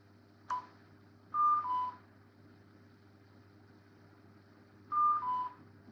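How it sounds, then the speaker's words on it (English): Two pairs of electronic beeps, each a quick two-tone chirp, separated by a few seconds of quiet hum, preceded by a single click. "Maybe notice the little beeping sound. So it gave me the audio alert as well."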